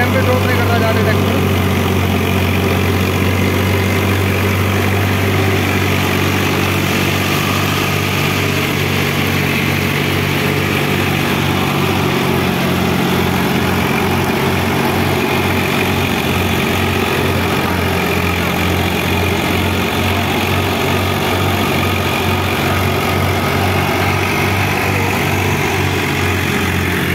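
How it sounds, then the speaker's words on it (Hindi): A Swaraj 744 FE tractor engine runs continuously and loudly up close, a steady throbbing drone with a pulsing low beat and slight shifts in pitch, with people talking over it. "तो भैया ट्रैक्टर के आरपीएम भी दिखाऊंगा अभी आपको।"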